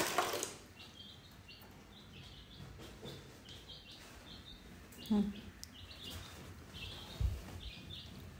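A pet parrot near water gives sparse short chirps and calls, faint and scattered, alongside a few small drip-like clicks, with a person speaking softly at times.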